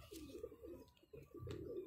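A high-flyer pigeon coos while held in the hand, giving soft low throaty coos in a couple of bursts, close and quiet, with no speech.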